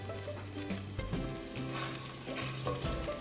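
Garlic sizzling in melted butter in a skillet, a soft, close frying hiss with faint stirring and scraping and no voices.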